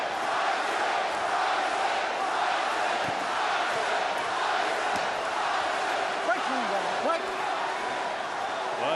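A boxing arena crowd at the 2004 Mike Tyson vs Danny Williams heavyweight fight roars steadily as a dense, continuous wash of noise, with a commentator talking over it.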